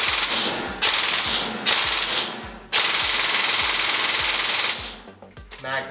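A custom Tokyo Marui airsoft rifle on an 11.1V battery fires rapid full-auto bursts, loud and close. Several bursts run one after another with brief pauses between them, and the last is the longest before the gun stops.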